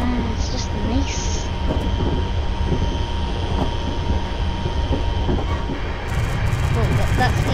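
A Class 380 electric train in Train Simulator 2019 hums steadily along the track with rumbling wheels and faint rhythmic rail clicks, loud and continuous, with brief high squeals and a rising whine near the end.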